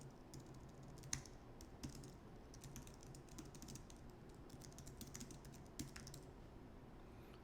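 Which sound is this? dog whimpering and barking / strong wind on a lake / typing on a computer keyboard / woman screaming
typing on a computer keyboard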